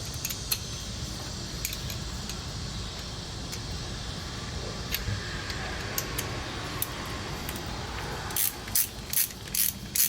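A hand ratchet clicks rapidly and steadily while tightening the bolts on the oil filter cover of a 1985 Yamaha Virago XV700 motorcycle, close and continuous, with a few sharper ticks near the end.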